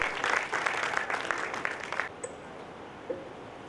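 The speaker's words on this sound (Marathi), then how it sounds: "एकदा जोरदार टाळ्या झाल्या पाहिजे" Audience applause for a speaker at an academy lecture event: a dense burst of clapping for about two seconds that stops abruptly, leaving a quiet room.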